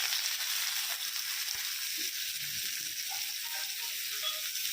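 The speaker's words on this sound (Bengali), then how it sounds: "চলো চাতুর পুর করার জন্য আগে পেঁয়াজটাকে ভেজে নেবো" Onions frying in a pan give a steady, even sizzle that runs the whole time. Faint scrapes and knocks sit under it, and no one speaks.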